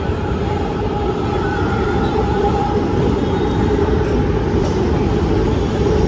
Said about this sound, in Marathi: नारगुंडा मेट्रो स्टेशनवर आलो